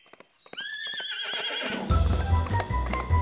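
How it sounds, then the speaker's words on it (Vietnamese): A horse in an animated folk-tale film gives a loud, drawn-out whinny, followed by rhythmic hoof clip-clops and heavier thuds as it moves close by. "Kia chứ phải là con ngựa của mình ư?"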